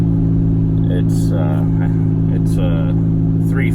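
A car driving along the road, its engine giving a steady, close low drone with a faint rumble throughout, while a person talks over it at intervals.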